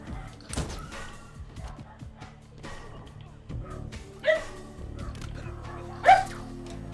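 The gamer's pet dogs bark in the room during a live Halo Infinite session, a few sharp barks and yips scattered over quiet background game sound, with one loud bark near the end.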